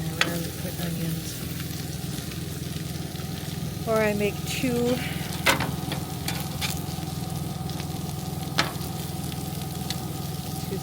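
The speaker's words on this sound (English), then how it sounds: "With fried pork tenderloin." Pork tenderloin fries in a pan in a small cabin kitchen, a steady close sizzle that carries on under a voice and a few clinks of utensils.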